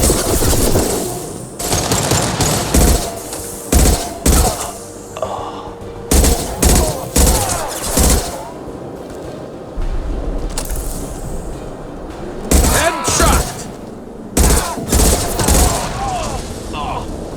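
Rapid bursts of automatic gunfire from Mass Effect 2 combat, loud clustered volleys broken by short pauses, repeating across the whole stretch.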